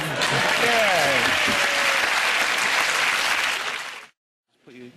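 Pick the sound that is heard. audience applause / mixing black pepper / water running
audience applause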